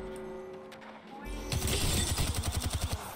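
Gunfire in the Apex Legends video game: a burst of rapid repeated shots erupts partway through, loud and sharp with a rhythmic rattling pattern, following quieter game sounds.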